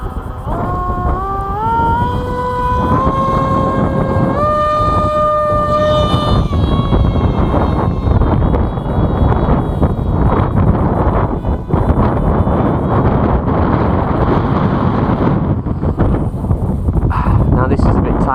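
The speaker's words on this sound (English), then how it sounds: "The wind's not so good" Strong outdoor wind buffets the microphone in a loud, steady broadband rush that lasts throughout, with a rising whining tone in the first few seconds.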